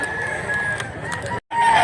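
A rooster, a gamecock offered for sale at a market in Mantalungon, Cebu, crows loudly and close by in one sustained call amid outdoor background noise, with a brief gap near the end.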